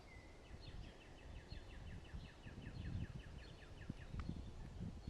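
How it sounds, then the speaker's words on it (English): Small birds sing on a cold Easter morning near a flowering magnolia tree. Their repeated chirps come from a moderate distance, faint and steady, over low rustling and outdoor background noise. "Listen to the birds sing."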